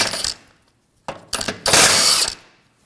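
An 18mm socket on a ratchet works two nuts off the engine torque strut mount of a 2001-2009 Volvo S60. Several close, loud bursts of rapid ratcheting clicks are separated by brief silences, with the last burst the longest.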